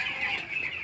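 Young broiler chickens, thirteen days old, cluck and chirp in a steady, fairly loud high-pitched chorus from a poultry flock close by, with no talking.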